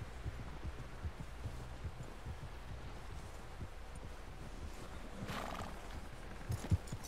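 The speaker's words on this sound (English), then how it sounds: "Someone help John down off this horse" Horse sounds from the video game Red Dead Redemption 2: soft hoof thuds and low snorting under a steady ambient bed, with a brief louder breathy burst near the end.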